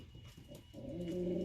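Pigeon cooing in a breeding loft, a soft, low, throaty coo that swells and holds steady through the second half, near and fairly loud over quiet room noise.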